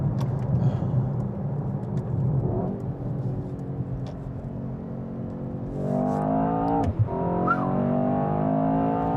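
A Mercedes-AMG S 63 E-Performance luxury sedan accelerates from inside the cabin, its engine note rising steadily, dipping briefly at a gear change and then climbing again, loud and close with no voices.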